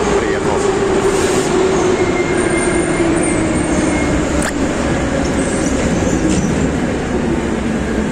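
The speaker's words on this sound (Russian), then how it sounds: "Вот наш тепловоз приехал." A Moscow metro train pulls into a station with a steady loud rumble, a high whine from the drive and squealing wheels, plus faint rail clatter.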